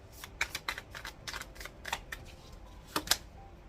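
Soft, quick papery flicks and riffles of tarot cards being shuffled close by, in short uneven bursts against a quiet background.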